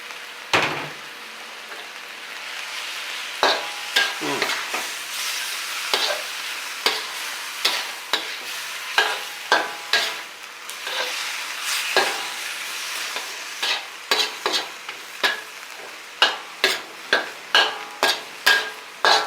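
Southern Thai stink beans with shrimp paste, fresh shrimp and kaffir lime leaves stir-fried in a pan: a steady sizzle under repeated sharp scrapes and clacks of the spatula, which grow faster and more regular toward the end.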